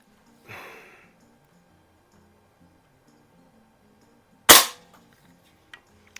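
Two sharp shots from a repaired Benjamin 352 .22 caliber rifle powered by an 8 gram CO2 cartridge, a softer pop followed seconds later by a loud crisp crack, then faint clicks of handling in a quiet room.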